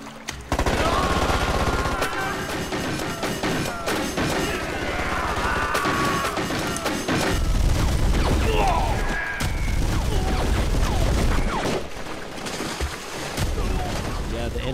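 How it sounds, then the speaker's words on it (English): Soft, thumping machine gun fire from the hand-drawn anime Jin-Roh: The Wolf Brigade, bursts of muffled gunfire mixed with crashes and mechanical clatter, loud and continuous. "the sound design of the machine guns from the Wolf Brigade. It's like a really, it's soft, but it's like a thump."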